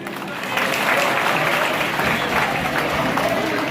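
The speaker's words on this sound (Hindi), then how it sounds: "जोरदार ताली।" Loud, dense applause from a crowd at a school inauguration ceremony in Khagaria, swelling after a brief moment and holding steady as a continuous wash of clapping.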